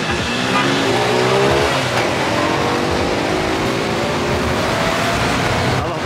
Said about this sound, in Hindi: यहाँ की बत्ती लाल है, यहाँ पे ट्रैफिक निकल रहा है